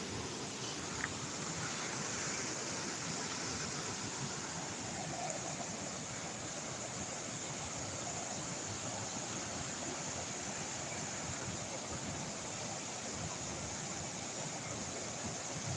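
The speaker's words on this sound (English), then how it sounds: "Let's try to get some more footage of this waterfalls before we take a break for the day." Waterfall at Cazenovia Park in Buffalo, New York, a steady, even rush of falling water heard from a moderate distance, continuous and unbroken with no voices.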